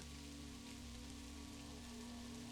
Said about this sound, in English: The rain continues its soft, eternal music upon the roof.